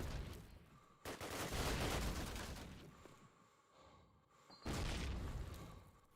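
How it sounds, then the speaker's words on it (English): Grenade blasts in the Call of Duty: United Offensive game, two heavy booming bursts with rumbling tails separated by a quieter stretch, set amid distant gunfire. "They are throwing some nades and they get a kill"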